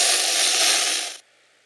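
A homemade hand-cranked USB dynamo charger being turned, giving a loud, steady mechanical whirring grind that stops abruptly after about a second, leaving near silence.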